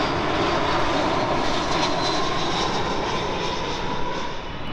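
An EgyptAir Boeing 777-300 landing at Heathrow after arriving from Cairo produces a loud, continuous jet-engine roar, close and unbroken, with no voices.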